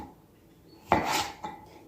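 A knife cuts bell peppers into triangular pieces on a cutting board, giving one sharp chop followed by a brief scrape and a second, softer chop, close and alone.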